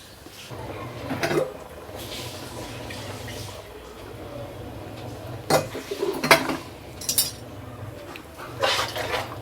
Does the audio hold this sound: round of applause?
no